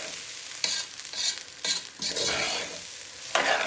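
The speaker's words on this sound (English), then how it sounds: "Right, I've been toasting the rice away for the last few minutes." Rice toasting in a pot for a mutton yukhni pilau, stirred in bursts: scraping spoon strokes and dry sizzling come and go in several waves over a few seconds, fairly close and with no talking.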